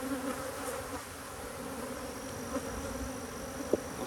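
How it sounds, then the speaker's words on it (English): Bees buzz steadily in the corner of a hive, a dense continuous hum of many insects close by with a few brief louder passes, no voices. "There's a lot of bees up here in the corner."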